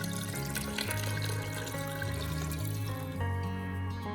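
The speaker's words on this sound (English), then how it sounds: "Then I'm gonna add 4 cups of water." Water is poured from a container into a pressure cooker pot holding sliced onions and carrots, a steady close splashing stream that runs for a few seconds without talk.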